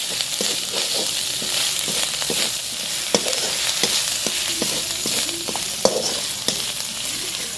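Egg tadka masala is sautéed with a little salt in a pan, giving a continuous close sizzle with repeated scraping spatula strokes and occasional sharper knocks against the pan.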